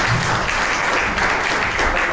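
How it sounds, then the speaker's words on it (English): A conference audience applauds panel speakers at a business event, dense sustained clapping that stays loud and steady throughout with no talking over it. "Please give them a lovely round of applause."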